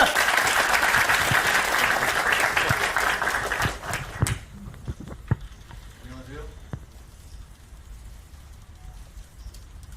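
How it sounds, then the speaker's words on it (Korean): Audience applause welcomes a guest speaker at a university student forum in Korea, a dense, loud burst of clapping that dies away after about four seconds into scattered claps and room noise. "한동훈 대표님을 큰 박수로 맞으시길 바랍니다"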